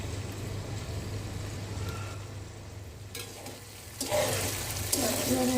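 Sliced potatoes frying in a pan of oil, with a steady soft sizzle and low background hum, and louder stirring and clattering near the end.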